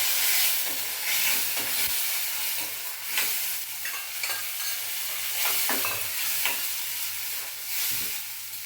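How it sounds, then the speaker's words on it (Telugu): Onion, green chilli and a ground spice paste frying in a pan, a loud close sizzle with frequent spatula stirring and scraping throughout. "ఇది శుభ్రంగా పచ్చి వాసన పోయే వరకు వేగనివ్వాలి"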